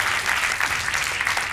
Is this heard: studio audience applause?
yes